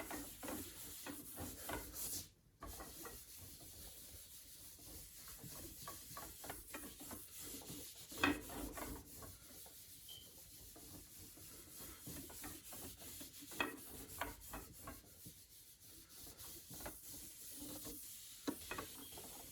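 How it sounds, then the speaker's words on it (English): Someone rubs a table down with a sandy cloth, giving soft scattered scrubbing and brushing strokes that are faint and close, heard alone without talk. "I'm going to start wiping down the table for a full 30 seconds."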